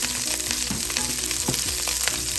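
Chopped garlic and onion fry in a pan, a close, continuous sizzle and crackle with stirring scrapes of a utensil against the pan.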